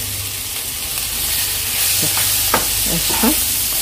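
Chicken cocktail chilli fry being stirred in a pan, with a steady broad sizzle and a few scraping spoon strokes in the second half, close and fairly loud.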